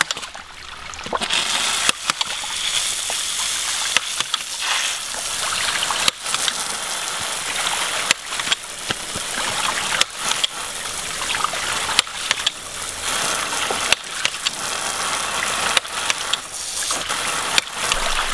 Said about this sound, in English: The jet of water here seems to have a lot less fall over the distance there.